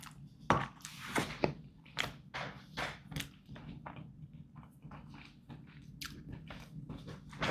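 Someone chews a freeze-dried Mountain House beef pot pie meal with chewy meat, potatoes and peas, giving close, quiet, irregular wet bites and soft crunches in a steady rhythm.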